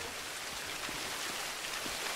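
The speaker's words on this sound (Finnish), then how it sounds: "Täällä on joku siisti vesiputous." Steady rushing water from a waterfall in the pirate video game Sea of Thieves, a continuous broadband splashing wash held at an even, moderate level throughout.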